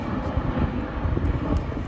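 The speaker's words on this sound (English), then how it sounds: "We got a plane overhead, so I'll try to talk a little louder." A propeller airplane passes overhead at an outdoor equipment site near a John Deere 26G compact excavator, a steady low broadband drone with a faint wind rumble that holds for under two seconds, with no talk.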